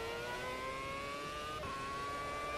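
A 2006 V8 Formula 1 car engine in the AMS racing game holds a loud, steady high-revving whine whose pitch creeps slowly upward, with no voices over it.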